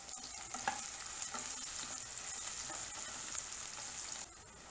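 Onions and dry red chili fry in a pan with a quiet, steady sizzle and repeated scraping stirs, no voices over it.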